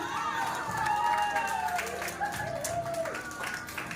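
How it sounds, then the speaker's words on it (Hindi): Crowd applause for a Rajasthani dance performance at a prize-giving event: a steady, dense wash of clapping throughout, with music or tonal sounds and some voices mixed in underneath. "राजस्थानी डांस के लिए सवित्री"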